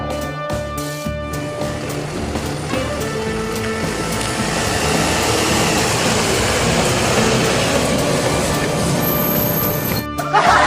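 A toy school bus engine runs with a continuous rattling mechanical whir, with faint steady tones riding on top, holding fairly loud before it cuts off near the end.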